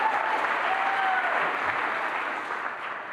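Audience applause at a women's awards ceremony, a dense continuous wash of clapping from a large room that holds steady and slowly tapers off.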